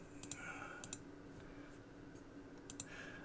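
Sparse, faint clicks of keys being typed on a computer keyboard while a PC game upscaler setting is changed, coming in quick pairs with gaps between them over a low steady hum, with no talking.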